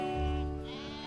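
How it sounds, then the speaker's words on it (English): A sheep bleats close by on open green pasture, one drawn-out wavering call that rises and then trails off, with no voices around it. "Leisurely grazing sheep herds can easily be spotted."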